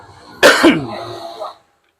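A single loud, harsh cough bursts out close by, followed by a brief throat-clearing rasp that fades within about a second, heard amid a street market stall setting.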